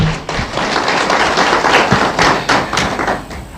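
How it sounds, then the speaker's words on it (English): Audience applause for an archbishop at the launch of a peacebuilding architecture review, a dense, loud wash of clapping with scattered sharper claps running steadily throughout. "Another round of applause to the Archbishop."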